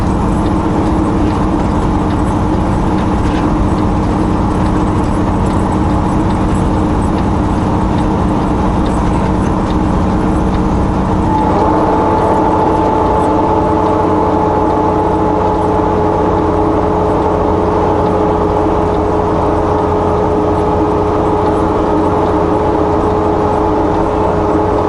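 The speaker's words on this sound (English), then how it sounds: "I hope you guys can hear the chains." Snow chains on the tires of a vehicle driving a snowy mountain road, a loud steady rattle and clatter over constant engine drone, with a whining tone rising midway as the vehicle changes pace.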